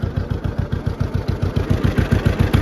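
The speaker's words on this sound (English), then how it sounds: "Dad had his Johnny Popper rolling pretty fast there. 5th gear." A John Deere two-cylinder 'Johnny Popper' tractor drives fast in 5th gear, its engine giving a loud, close, evenly spaced pop-pop thumping with clattering undertones.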